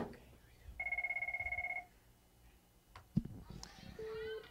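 A telephone rings with one long electronic trill of rapid pulses, clear and moderately loud, followed by a click as it is picked up, a short tone, and children's voices in the background.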